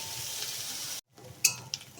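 Garlic and onion paste frying in hot oil, a steady close sizzle that cuts off abruptly, then resumes more quietly with a couple of brief clinks.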